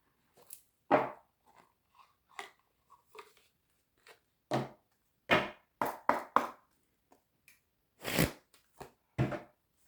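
Tarot cards are shuffled and drawn in a quiet room: brief, crisp riffles and flicks come in irregular bursts separated by short silences.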